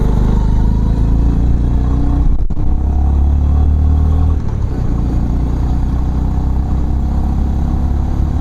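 A Honda CB350 motorcycle in second gear accelerates hard on an open road, its engine roaring loud and close with heavy wind rush and a brief dip midway.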